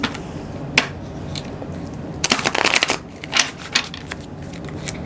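Tarot cards are shuffled by hand in close, crisp bursts of riffling and flicking, with brief pauses between the clusters.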